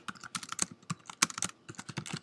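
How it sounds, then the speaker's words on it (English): Rapid typing on a Mac computer keyboard, a close, uneven run of crisp key clacks with brief pauses, no talking. "So I typed in a comment."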